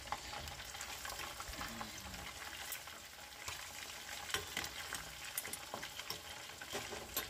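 Steady crackling and sizzling of chicken drumsticks deep-frying in hot oil, close up and continuous, with small pops scattered throughout and no talking.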